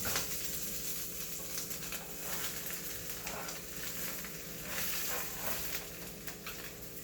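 Reuben sandwich with ground turkey browning in melted Crisco in a 10-inch pan, a steady close sizzle and crackle of frying fat with occasional faint clatter, no talk.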